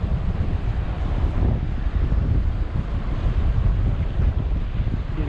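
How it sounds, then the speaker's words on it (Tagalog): Strong wind buffets the microphone at sea off the islands of Palawan during ultra-light fishing, with rough waves and water rushing around a boat, a loud continuous roar with no voices. "Malakas ang hangin, malakas ang alon mga master."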